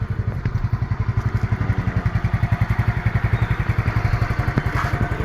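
A Yamaha Mio Sporty motor scooter engine, which runs poorly, idles steadily nearby, its rapid even putter pulsing without pause throughout.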